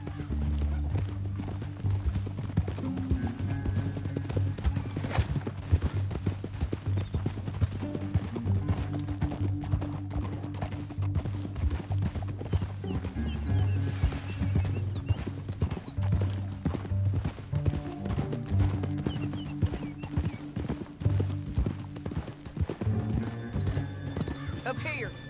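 Horse hooves clip-clopping in the video game Red Dead Redemption 2, a steady galloping rhythm under music, with occasional whinnies and voices talking over it.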